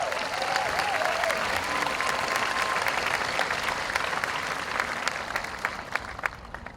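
A crowd applauds steadily at a high school commencement, a dense patter of clapping hands from many people sustained for several seconds.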